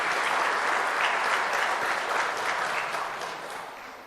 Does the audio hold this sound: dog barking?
no